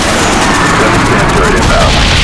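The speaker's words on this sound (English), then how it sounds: "Friendly napalm strike on the way." Napalm strike explosions in the video game Call of Duty Black Ops, a loud, sustained roar of blasts and rumbling fire that fills the whole stretch without a break.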